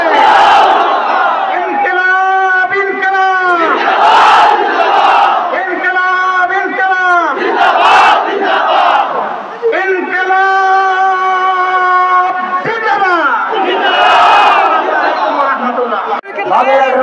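A large crowd at a Jamaat political rally in Khulna chants the Islamic takbir in loud unison, with a leader's calls alternating with massed shouted responses in a repeating rhythm.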